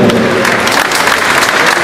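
Studio audience applause at a Polish comedy show, dense steady clapping filling the short stretch at full loudness with no talk over it.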